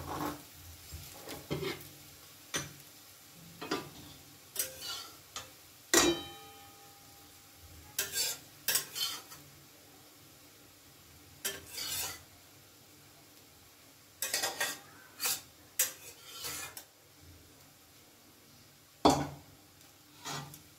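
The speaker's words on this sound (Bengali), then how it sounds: "এবার সব কিছু একসাথে আমি সুন্দর করে মিশিয়ে নিচ্ছি।" Chow mein fried with vegetables being mixed together with fried egg in a pan, heard as scattered bursts of stirring, scraping and clinking against the pan, separated by quiet gaps.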